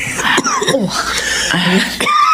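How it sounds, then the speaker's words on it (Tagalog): A feverish older man in a Filipino radio drama coughs a few times in quick, harsh bursts, close and loud, with a raspy, throaty quality amid faint background sound. "Inuubo na rin kayo, Tay."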